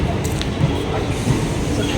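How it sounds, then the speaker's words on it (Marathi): Loud, continuous rumble of the Akola–Parli Vaijnath passenger train arriving close by at Malselu station, with people talking over the noise. "अकोला ते परळी वैजनाथ पॅसेंजर आता आलेले आहे माळशिलू स्टेशनवर"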